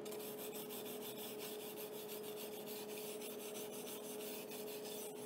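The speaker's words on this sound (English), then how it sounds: "Use your wire brush and give those little tacks a clean." A wire brush scrubs across welded tacks on steel tubing in quick, repeated raspy strokes, close and fairly quiet, with a faint steady tone running underneath.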